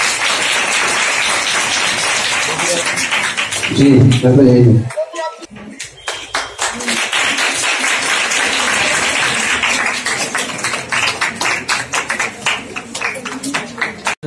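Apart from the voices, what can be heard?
applause from audience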